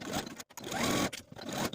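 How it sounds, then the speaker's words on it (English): Sewing machine stitching the side seams of a dress bodice with a 5/8 inch seam allowance, heard in close, loud bursts that stop briefly and start again. "And then sew both side seams with a 5/8 inch seam allowance."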